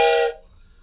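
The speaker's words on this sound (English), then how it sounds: "Train whistle." A train whistle gives one loud, clear blast lasting about a third of a second, then cuts off abruptly and leaves near silence.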